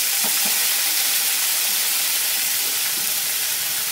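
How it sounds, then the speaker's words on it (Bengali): Ginger paste and green chili paste hitting hot oil with a bay leaf and whole cumin, giving a steady, loud sizzling hiss with a few faint clinks at the start. "ফোড়নটা ফ্রাই হবার পরে এর মধ্যে আমি দিয়ে দিচ্ছি আদা বাটা, কাঁচা লঙ্কা পেস্ট"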